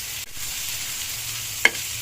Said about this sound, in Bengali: পেঁয়াজগুলোকে আমি একটু ভাজা ভাজা করে নেব,